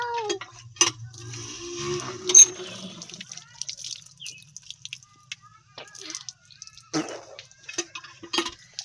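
Water running and dripping into a sink during face washing, a close, intermittent splashing with soft drips and clinks, and voices talking in between.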